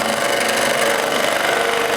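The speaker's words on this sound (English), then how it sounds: "We can use a skew chisel, either like that, or a more traditional way," A skew chisel cuts a recycled wooden fencepost spinning on a lathe, giving a loud, continuous rough scraping whir with a steady motor hum underneath and no talking.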